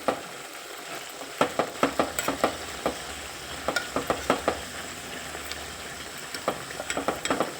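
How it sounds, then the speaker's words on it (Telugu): Fenugreek seeds fry in oil on a low flame for homemade hair oil, giving a steady hiss with a run of sharp scraping and tapping stir strokes against the pan. "ఇది బాగా కాగాలి, బాగా నల్లగా వస్తుంది ఆయిల్ మొత్తం."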